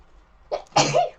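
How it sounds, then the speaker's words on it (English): A single close sneeze: a short sharp intake followed by a forceful burst of breath. "I've got to sneeze now as well."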